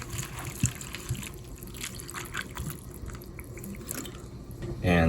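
Water runs into a pot for ramen in a dorm kitchen, starting as light dripping and trickling, then swelling into a steady, louder pour at the end, with faint background noise throughout.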